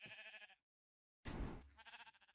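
A Minecraft sheep bleats twice in a farm pen, two wavering, nasal calls separated by a short pause, clear and close with nothing else audible.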